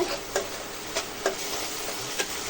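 Spices with turmeric and Kashmiri chilli powder fry in oil in a pan, giving a continuous sizzle broken by regular light stirring clicks, with no voices.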